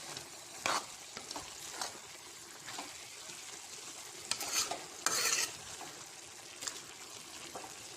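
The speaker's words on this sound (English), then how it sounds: "just keep on stirring it in high flame" Vegetables for palak paneer, spinach among them, sizzle steadily in a hot pan over high flame while a spoon stirs and scrapes, with a few louder clattering bursts.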